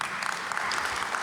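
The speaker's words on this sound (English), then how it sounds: "I got you an applause." Brief burst of audience applause at a health equity forum panel, a thick uniform patter of many hands clapping at moderate loudness.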